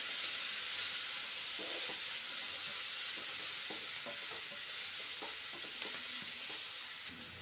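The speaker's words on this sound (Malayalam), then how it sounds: "നമുക്ക് സവാള കൂടി ചേർത്ത് കൊടുക്കാം. നന്നായി ഇളക്കുക. ചെറിയൊരു ബ്രൗൺ കളർ ആവുന്നത് വരെ ഇളക്കണം." Onions frying in a pan for an okra masala curry, stirred continuously: a quiet, even sizzling hiss fills the whole stretch, with soft scraping stir strokes recurring underneath.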